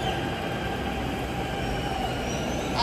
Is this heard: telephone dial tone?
no